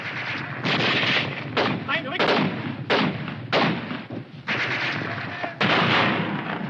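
Loud bursts of gunfire and grenade blasts in a 1951 World War II combat film, repeated explosive cracks and rattling shots coming in close succession with shouting voices mixed in.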